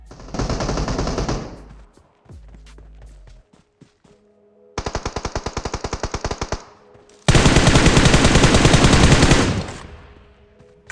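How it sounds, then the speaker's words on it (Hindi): Bursts of automatic gunfire from squads fighting in a mobile battle royale game: three loud rapid-fire volleys, one near the start and two longer ones later, separated by quieter gaps with faint clicks and tones. "वहाँ बहुत तेज साउंड आ रहा था फायरिंग का"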